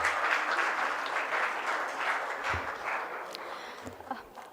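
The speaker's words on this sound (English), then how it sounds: "Let's give a huge round of applause to Zahid." A crowd applauds steadily, a dense wash of clapping that holds at an even level throughout.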